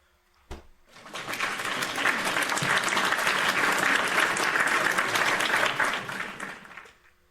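A dense burst of hand claps, like applause, rises quickly, holds steady for about six seconds, then fades out.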